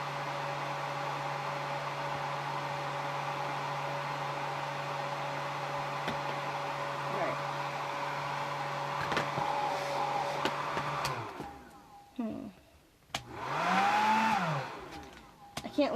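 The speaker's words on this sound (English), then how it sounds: "I'm wondering if my hairdryer is just not heating as well anymore" A hair dryer running in steady whirring drone for about eleven seconds during a doll build, then cutting out and briefly switched back on with a rising then falling pitch; a voice is heard faintly.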